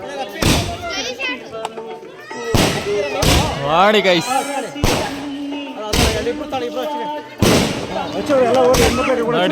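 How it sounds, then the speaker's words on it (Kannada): Firecrackers burst in a series of sharp, loud bangs at a temple celebration, roughly every second or two, with people talking and exclaiming throughout. "ಪಟಾಕಿ ಮ್ಯಾಲ ಹೊಡೆಯವು"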